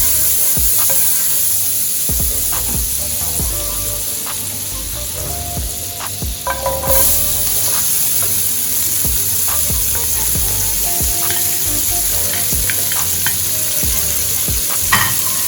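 Butter sizzling in a hot pan for Jamaican-style curry shrimp, a loud continuous frying crackle and hiss with intermittent pops and stirring knocks, close up, with no one talking.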